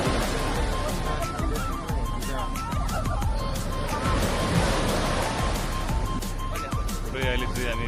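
Surf breaking and washing onto Haeundae beach in Busan, a steady roar of waves with wind, under crowd noise and voices chattering close by throughout.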